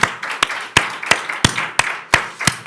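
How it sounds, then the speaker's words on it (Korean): A church congregation at a Wednesday worship service claps in a steady rhythm of sharp, loud, evenly spaced claps, about three per second, close and without talking. "우리 하나님께 영광의 박수 올려드리시겠습니다."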